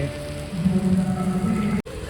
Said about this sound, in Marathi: बघूया पाऊस कधी कमी होतो